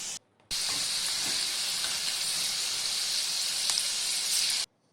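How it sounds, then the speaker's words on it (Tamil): Corn kernels deep frying in hot oil for crispy corn, a steady bright sizzle and hiss that starts abruptly, holds evenly for about four seconds and then cuts off. "இதே மாதிரி சின்ன சின்ன பேட்சாக பொரிச்சு எடுத்துக்கோங்க."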